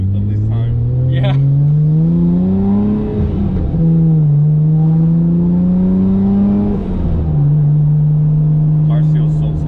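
A Nissan R34 GTR with a custom welded exhaust drones loudly and steadily as its engine revs and pulls, the pitch climbing, dipping and rising again through the pass, with brief talk at the start and end.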